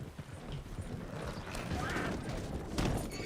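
Horse hooves clip-clopping in Red Dead Redemption 2, a steady close stream of hoofbeats under game ambience, with a brief louder thump near the end.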